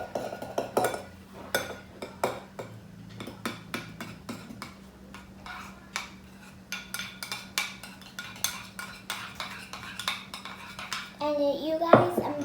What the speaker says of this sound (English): first I'm gonna mix that up with my spoon